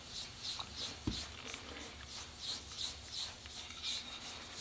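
Quiet, rhythmic abrasive rubbing strokes sanding a metal part repeat at a steady pace, a soft scratchy rasp close by with little else around it.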